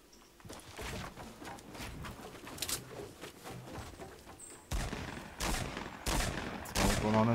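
Gunfire in Fortnite Battle Royale comes as bursts of rapid shots, some distant and some close and loud, clustered in several rattling volleys that grow stronger toward the end.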